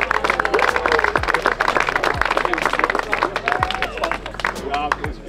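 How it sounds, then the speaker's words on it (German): At a turbo-kart race in Wohlen, a crowd applauds with steady, dense clapping held under an announcer's continuous voice for several seconds. "Ein riesen Applaus für unsere Sonntagsfahrer."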